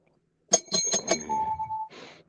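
A small bell rings in a quick burst of four bright dings, followed by a sustained tone as it fades, close and clear in a quiet room.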